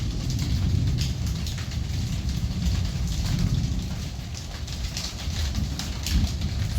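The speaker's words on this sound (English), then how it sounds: "Enjoy a real Singaporean monsoon downpour." Monsoon downpour in the Singapore Botanic Gardens: a steady, dense roar of heavy tropical rain drumming on surfaces, with a few bird calls faintly audible through it.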